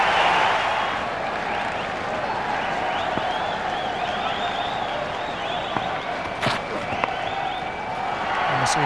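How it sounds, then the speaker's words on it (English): A large cricket stadium crowd, the Indian supporters and southern stand, roars and cheers as a batsman brings up his fifty, a loud sustained wash of noise with occasional sharp claps and whistles. "all of a sudden the Indian crowd and the southern stand go wild"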